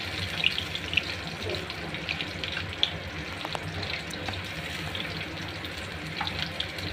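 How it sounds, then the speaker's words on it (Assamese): Pieces of rohu fish fry in hot oil in a kadai, giving a continuous close sizzling hiss scattered with small pops and crackles and no talking. "মই ইয়াতে এখন কেৰাহীত এনেদৰে মাছখিনি ফ্ৰাই কৰি আছোঁ।"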